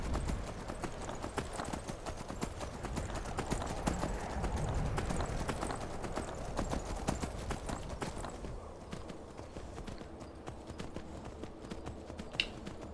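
Horse hooves from the Skyrim video game clip-clop in a rapid, steady rhythm throughout, close and fairly loud over a continuous background rumble.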